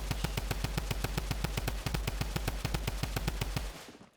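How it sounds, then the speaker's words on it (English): A Fortnite drum gun fires one long unbroken burst of rapid, evenly spaced shots, loud and mechanical, before the burst cuts off and a short tail fades. "Okay, so here's the drum gun."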